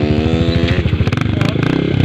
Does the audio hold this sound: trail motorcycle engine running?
yes